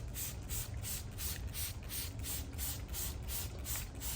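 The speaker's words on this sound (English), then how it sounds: "grab some water and spray it" Rapid, regular bursts of spray hiss repeat steadily and close by, a trigger bottle squirting water over and over onto a Mazda RX7 13B rotary engine during teardown, with no talking.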